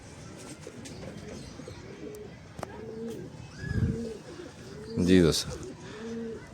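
Pigeons coo in soft repeated low phrases, male and female birds kept for pairing and breeding, with someone talking briefly near the start and a louder burst of cooing and flutter near the end.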